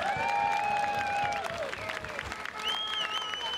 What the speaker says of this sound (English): give yourselves a huge round of applause because you have been fantastic